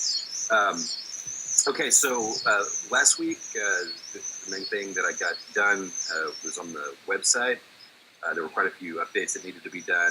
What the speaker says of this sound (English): We got a lot of cicadas.